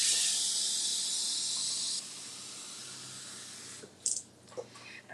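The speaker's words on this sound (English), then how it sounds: "Just getting some water from my Keurig" Water streams steadily from a Keurig coffee maker with a bright hiss for about two seconds, then stops, followed by a few faint clicks and drips.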